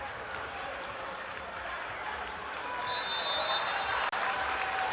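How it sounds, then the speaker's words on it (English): Applause from teammates and a stadium crowd at a live Asante Kotoko versus Berekum Chelsea football match, a dense continuous wash of clapping and crowd noise heard from a distance, swelling slightly toward the end. "Again, getting applauded there from teammates."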